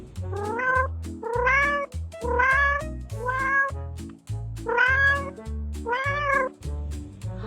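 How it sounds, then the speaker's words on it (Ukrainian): A cat meows six times in a steady rhythm, each call loud, close and drawn out, with short gaps between them. "Котик каже мяу, мяу."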